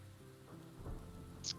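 Rain ambience plays as a sound effect during a tabletop fantasy role-playing session, a steady soft patter with a low rumble underneath and a brief bright tick near the end.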